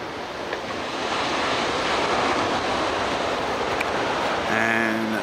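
Surf waves rolling onto Loch Sport surf beach, a loud continuous roar of breaking water mixed with wind buffeting the microphone.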